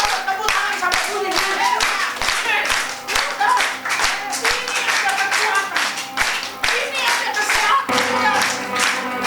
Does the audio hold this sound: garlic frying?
no